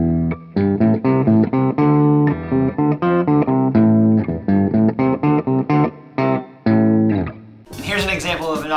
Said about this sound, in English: Here's an example of an Octave pedal going one octave below your original sound.